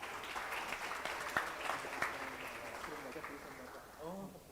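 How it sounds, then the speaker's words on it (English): Audience applause at an international dialogue event as a speaker is called up, moderate clapping from the hall that fades as a voice begins speaking near the end. "Round of applause again."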